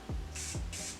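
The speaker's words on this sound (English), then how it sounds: "spray a little bit of this like on a clean part of the wipe" Makeup remover sprayed onto a cleansing wipe in two short, soft hissing bursts, each preceded by a faint pump click, close and alone.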